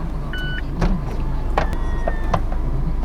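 A Mazda MX-5 roadster's convertible roof folds down, with a whirring electric motor hum, several mechanical clicks and clunks, and a rising motor tone near the end, close and clear.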